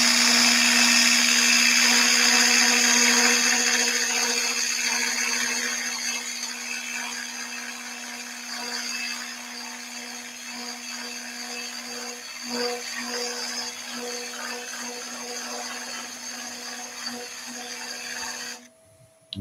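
A wood lathe spins an Ecopoxy twig bowl while a parting tool cuts and eases away the base, giving a steady whirring motor tone with faint scraping underneath, loud at first and then settling slightly quieter, with no talking.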